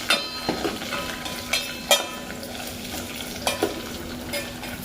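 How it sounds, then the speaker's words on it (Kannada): Chopped onions fry in a pan with a steady close sizzle, while a spoon stirs and scrapes against the metal in a few sharp clinks. No one speaks. "ಈರುಳ್ಳಿನ ಚೆನ್ನಾಗಿ ಬಾಡಿಸೋಣ."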